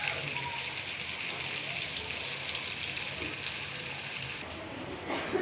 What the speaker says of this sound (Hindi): ये देखिए 2 और फ्राई हो रहे हैं।